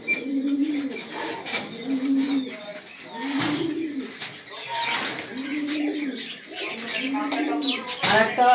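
Pigeons coo at a farm in repeated soft, rolling calls, close and steady, with other birds chirping around them and a voice speaking over the top.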